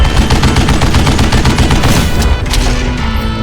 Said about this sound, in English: Kid Curry opened up on me with a goddamn Gatling gun